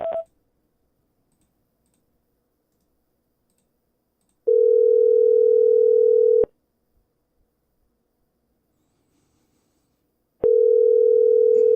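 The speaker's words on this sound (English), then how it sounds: "At the tone, please record your message." Voicemail recording tone on a telephone line: a brief high beep at the start, then two long, steady, loud tones separated by several seconds of silence.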